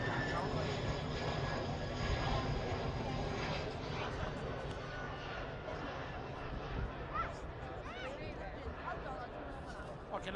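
A low-flying aircraft drones steadily overhead at the Australian Grand Prix circuit, its broad engine roar loud and continuous, with crowd babble and voices mixed underneath.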